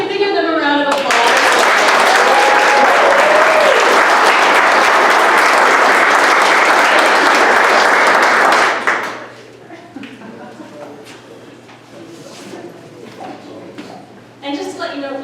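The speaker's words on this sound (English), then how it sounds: "Can you give them a round of applause?" Audience applause at a university conference swells into loud, sustained clapping for several seconds, then cuts off into quiet room noise with faint taps.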